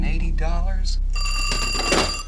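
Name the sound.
telephone ringing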